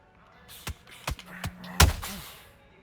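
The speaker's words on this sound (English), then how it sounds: "It's going to be a fast power shot." Several sharp punch impacts from Lomachenko landing fast lead power shots in the boxing video game Undisputed, a few quick thuds followed by one heavier hit near the end, with no talking.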